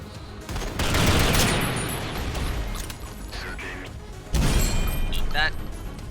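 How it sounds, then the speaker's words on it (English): Rapid-fire fusion gun blasting in the shooter game Synthetik, a dense stream of loud shots with crashing impacts, easing briefly then surging again. "That's a rapid fire gun."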